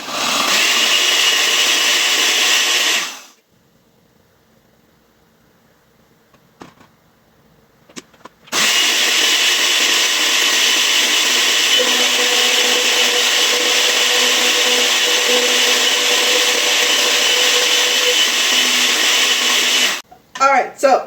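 Countertop blender whirring loudly as it blends chowder cream ingredients, running steadily for about three seconds, stopping, then roaring again for a long continuous stretch before cutting off.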